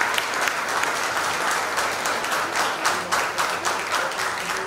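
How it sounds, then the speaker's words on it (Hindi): Audience applause after a staged performance of the Sanskrit play Prasannaraghavam: dense, sustained clapping from a crowd that swells and fades slightly across several seconds. "तालियां होनी चाहिए।"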